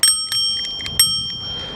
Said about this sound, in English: It's got a built-in bell.